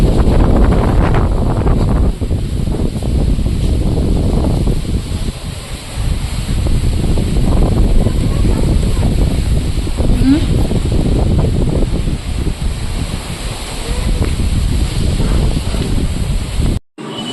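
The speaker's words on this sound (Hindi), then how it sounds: "आप देखिए क्या हवा चल रहा है" Strong wind buffets and roars continuously, rumbling across the microphone with gusty surges and rustling, nearly unbroken throughout.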